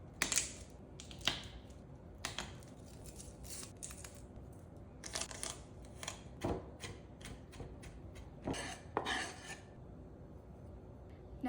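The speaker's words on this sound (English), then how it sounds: "We're gonna go ahead and crack open these cloves and mince it." Garlic cloves are cracked open and minced for cow tongue soup, with crisp, close crunches and quick knife chops in uneven bursts separated by quiet pauses.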